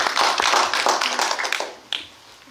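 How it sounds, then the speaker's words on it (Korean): Scattered applause from a small audience at a film talk event, a burst of claps that thins out into a few isolated claps, close and without voices. "배우님 실물보다 화면발이 낫다고 생각하시면 박수 한번 보내주세요"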